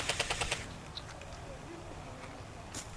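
Airsoft guns fire during an outdoor airsoft game, a quick burst of about five sharp shots at the start, then quieter background noise and a faint later pop.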